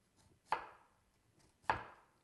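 Two sharp knife chops come through an onion onto a cutting board, spaced about a second apart, each with a crisp attack that fades quickly. The setting is quiet, with no talking.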